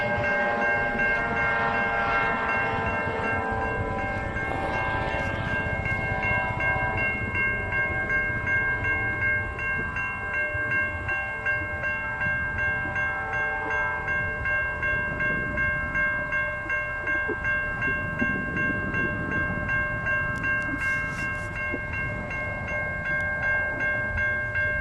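CN freight train led and DPU-powered by ES44AC locomotives rolling past, a loud sustained rumble with steady horn-like tones and rail noise throughout, no voices.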